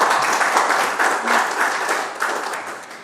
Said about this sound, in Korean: 우리 다 같이 다시 한번 힘찬 박수를 보내주시기 바랍니다